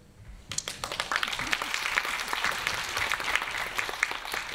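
Audience applause at a film festival master class fills the hall, a dense, steady wash of clapping that starts abruptly and holds at full strength throughout.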